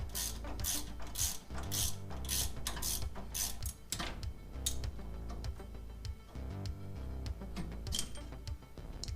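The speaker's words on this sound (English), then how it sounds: "We're going to pop out the two bolts that are holding on your caliper." A ratchet loosens the brake caliper bolts on a 1991 Pontiac Trans Am, giving rapid, continuous clicking bursts close by with short pauses between turns, and no one speaking.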